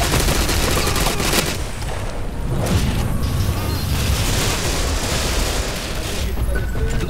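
Dense, rapid video game gunfire on the Attica Heights map crackles continuously with overlapping bursts and booms, loud and busy throughout, like an intense battle scene.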